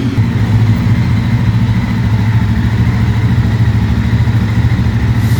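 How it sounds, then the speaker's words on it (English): A BS6 KTM Mojo 300 motorcycle with a dual exhaust, Ruby Red, idles steadily and loud at close range while being moved into a showroom, with no voices. "Farhan is just getting the beautiful bike BS6 Ruby Red inside the showroom."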